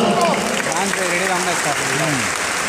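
Audience clapping at the opening ceremony of the 53rd International Film Festival of India in Goa, sustained applause from a large crowd beneath an announcer's amplified voice calling out over it.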